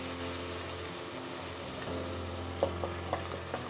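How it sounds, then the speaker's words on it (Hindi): Chole masala spices frying in oil in a pan, a low steady sizzle with a few soft stirring knocks toward the end; no talking. "सबको मिक्स करके बहुत अच्छे से भूनना है हम सारे मसाले को हमें।"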